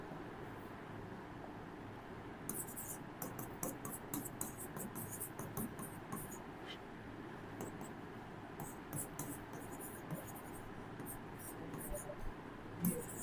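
Pen writing notes during a chemistry lecture on thermodynamics: soft, continuous scratchy strokes on a surface in repeated bursts over steady room noise.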